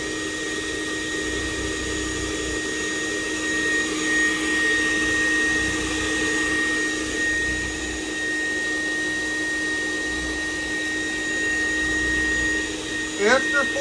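A pond bead filter runs with a steady mechanical whir and tonal hum as its media is churned, continuous and fairly loud throughout.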